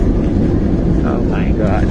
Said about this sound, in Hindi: landing in 5 second 1, 2, 3, 4 and 5 touchdown